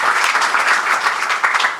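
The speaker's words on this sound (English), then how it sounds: "Let's give Keith a round of applause" A crowd at a press conference breaks into applause, a brief, close, full burst of many hands clapping evenly, with no voices over it.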